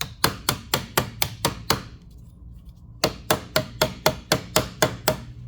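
A hammer strikes a Bravura trumpet in a steady run of sharp metallic taps, about a dozen hits split into two bursts around a short quiet pause, close and fairly loud.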